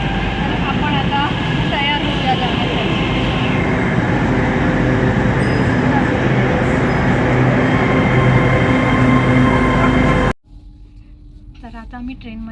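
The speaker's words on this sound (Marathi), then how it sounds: "तर ही जी ट्रेन येते ह्या ट्रेनने आपण जाणार" A train arriving at a station in Oxford rumbles loudly and steadily with a faint squeal of wheels, then the noise drops sharply near the end as quieter sounds and a voice follow.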